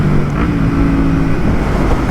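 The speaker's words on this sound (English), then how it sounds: "just hearing the downshifts and all of that." A Yamaha MT-03 motorcycle fitted with a full Akrapovic exhaust rumbles loudly and close by, its engine note shifting as the rider downshifts, with no voices.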